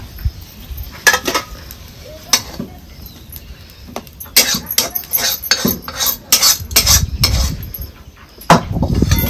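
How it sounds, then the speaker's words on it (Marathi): Sautéed spiced potato filling for vada pav is scraped from a pan onto a plate, with a metal spoon clinking and scraping against the pan in irregular bursts, close by and moderately loud. "आता ही परतून झालेलं आहे का नाही आपण ही ताटात काढून घ्यायचे"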